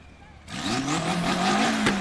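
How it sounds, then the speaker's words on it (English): A flat-plane V8 drift car at the British Drift Championships at Teesside bursts in loud and near, revving hard with a rising harsh engine note and a faint tire screech over continuous roaring. "A flat plane V8. I mean, it sounds different to all the other V8s out there."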